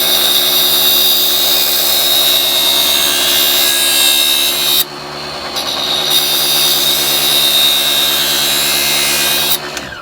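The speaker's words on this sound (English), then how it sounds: "We're going to do the same for the other side, gently pushing against the wheel." A kitchen knife is ground against the wheel of a mini table saw, a loud continuous whirring and grinding with a short break midway where the blade lifts off before the pass resumes.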